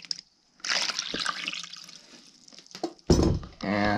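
Water poured into a dish for farm cats, a close splashing trickle that runs in bursts, then a louder gush near the end, with a voice briefly heard.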